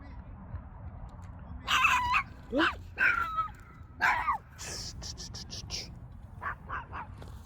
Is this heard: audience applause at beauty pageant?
no